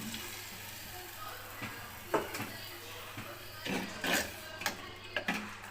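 Tamarind water poured into garlic and onion frying in a pan for a garlic-onion kuzhambu, giving faint sizzling crackles with a few brief louder splutters over steady low background hum.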